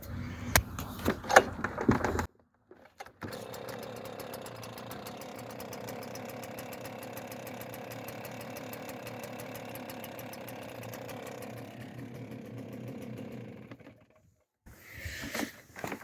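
STIHL SR430 backpack sprayer engine pulled into life after a brief start, then running steadily at a near, even idle for about eleven seconds before cutting out, with short handling noises at the start and end.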